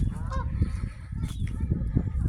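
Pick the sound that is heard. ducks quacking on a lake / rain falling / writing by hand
ducks quacking on a lake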